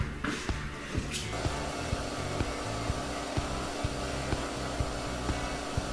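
A modified compressed-air wand blasts dust from steel in a garage, giving a steady broadband hiss with a brief stronger burst near the start and faint regular ticking underneath, close and fairly loud.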